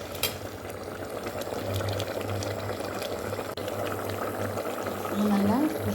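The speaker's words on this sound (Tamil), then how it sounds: "அது நல்லா கொதிக்கணும்." Prawn gravy with coriander and garam masala simmers in a pot on the stove, giving a steady bubbling hiss with a low hum beneath and a few brief clinks, while speech is absent.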